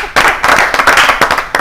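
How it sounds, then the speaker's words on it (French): Studio audience on a live television talk show breaks into steady applause, dense clapping from many hands sustained and fairly loud throughout with small surges. "Applaudissons pour Gabriel."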